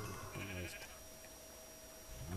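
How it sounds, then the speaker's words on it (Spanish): A black sheep bleats in the Minecraft video game, a clear, close, wavering call lasting about half a second at the start, then faint background until another bleat begins at the end. "Y una oveja negra."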